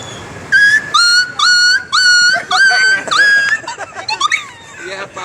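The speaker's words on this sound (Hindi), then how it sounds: "एक कुत्ते की आवाज, जो कुत्ते के पत्थर मारते हैं।" A dog whimpers and yelps in a run of short, high, pitched cries, as if hit by a thrown stone, loud and near, the later cries broken and fading.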